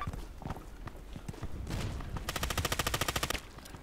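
Gunfire in the video game Contract Wars: scattered single shots and footsteps at first, then a rapid automatic burst of evenly spaced shots near the end, loud and close.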